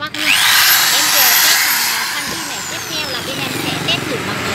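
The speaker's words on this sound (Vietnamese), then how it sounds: "bên em sẽ test thử bằng khoan điện cho các bác luôn" A handheld electric drill spins a copper pipe flaring tool, a loud, high whining motor that runs steadily for several seconds, then eases slightly as it keeps turning.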